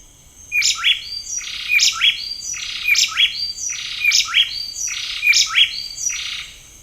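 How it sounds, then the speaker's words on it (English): Two tropical wrens trade rapid, ringing whistled phrases in a tight duet, repeating the pattern about six times in quick rhythm, clear and close against a quiet background. "here's the vocalization of one of my favorite species, another tropical wren"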